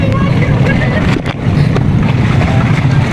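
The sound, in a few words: strong wind and waves at sea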